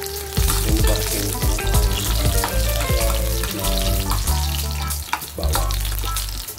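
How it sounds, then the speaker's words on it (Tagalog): Garlic sautés in oil left over from frying tofu, a dense crackling sizzle up close, broken by repeated clinks and scrapes of a spatula against the pan. "ang pinagprituhan ay ng tokwa ay gigisahan natin ng bawang"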